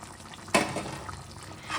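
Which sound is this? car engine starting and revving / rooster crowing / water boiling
water boiling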